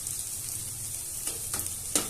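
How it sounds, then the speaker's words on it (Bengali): Pieces of crispy chicken frying in a shallow layer of oil, a steady close sizzle with a few sharper spitting pops near the end; no talking. "আমি খুব বেশি তেল দিইনি, অল্প তেলেই ভাজার চেষ্টা করছি।"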